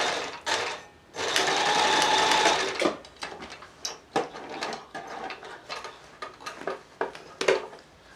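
Sewing machine stitching across a bulky jeans zip, a steady close whir for about two seconds, then short halting bursts and clicks as the needle works slowly over the bump.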